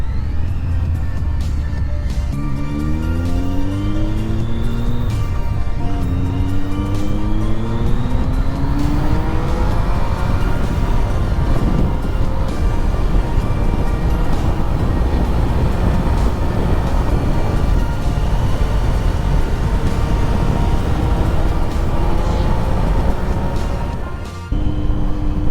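A 2008 Triumph Street Triple 675 three-cylinder motorcycle cruising in sixth gear around 3000 rpm, a steady loud engine drone with rising tones as it pulls, heavy wind and road rush throughout, no talk.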